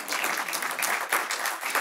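Audience applause at the 2019 Kingsley and Kate Tufts Poetry Awards reading at the Huntington, a steady wash of many hands clapping throughout, fairly close and full, with no talk over it.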